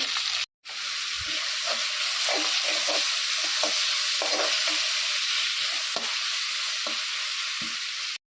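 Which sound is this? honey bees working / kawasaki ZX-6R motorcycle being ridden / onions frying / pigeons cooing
onions frying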